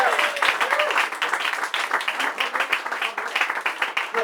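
Comedy club audience applauding, a loud, close burst of many hands clapping with uneven rhythm that rises and dips over several seconds, with some vocal reaction mixed in.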